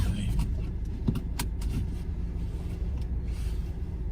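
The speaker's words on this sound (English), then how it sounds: "Let's get back in the car." A car is entered and driven on a humid day in the Japanese countryside. A continuous low engine rumble is interrupted by a few clicks and knocks, with a brief rustle near the start.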